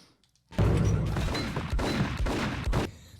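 Gunfire from an enemy private army in the Max Payne video game, a loud, close fusillade of rapid shots and crashing impacts that begins abruptly after a short silence and continues for a few seconds.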